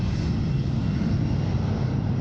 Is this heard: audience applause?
no